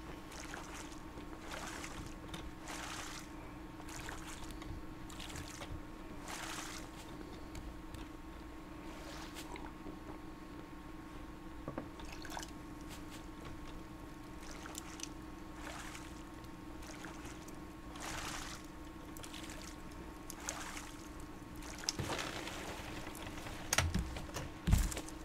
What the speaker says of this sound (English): Alright, I'm paddling.